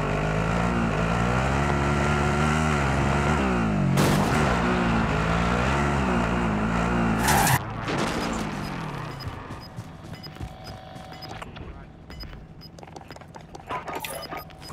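A vehicle engine in Call of Duty: Modern Warfare drones steadily with a wavering pitch, broken by sharp bangs, before fading to a quieter, rougher rumble with scattered knocks.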